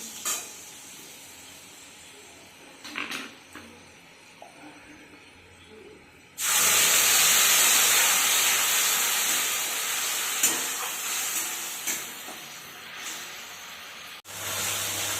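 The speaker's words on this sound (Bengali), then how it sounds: "তেলটা একটু গরম হয়েছে এবার আমি মশলাটা দিয়ে দেবো" Spice paste for vegetarian Bengali ghugni hits hot oil in a pan: after quiet clinks, a sudden loud, close sizzle bursts in and holds, then slowly eases with a few crackles; no talking.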